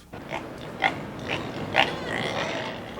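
Four pigs at a family home on a Vietnamese island grunt in short, separate bursts, two louder grunts standing out over a steady low background.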